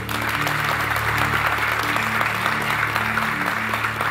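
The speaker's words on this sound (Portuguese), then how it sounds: "Você pode dar um aplauso ao Senhor?" A church congregation applauds in praise during a Portuguese-language sermon, a dense, steady wash of clapping that holds at even loudness throughout, with organ-like sustained tones underneath.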